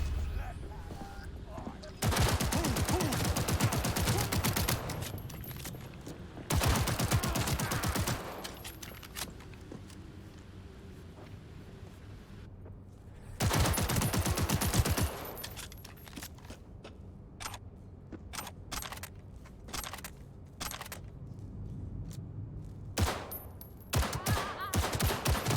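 Shotgun blasts in Cyberpunk 2077 come in loud, sharp bursts with quieter gaps between them. A voice is heard faintly in the quieter stretches.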